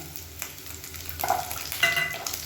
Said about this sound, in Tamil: நல்லா ப்ரௌன் கலரில் வர அளவுக்கு வதக்கிக்கலாம்